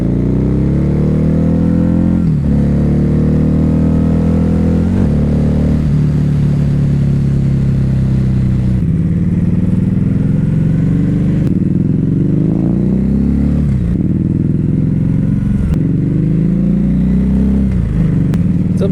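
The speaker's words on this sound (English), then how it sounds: "Sometimes you just gotta sit and listen to the engine purr." A Harley-Davidson V-Rod motorcycle engine runs steadily at idle with a deep, loping rumble, occasionally revving a little, with no voices.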